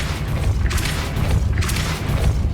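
A Depulso force spell cast in Hogwarts Legacy lands as a loud, low booming blast with a rumbling low end, followed by a second similar burst about a second later.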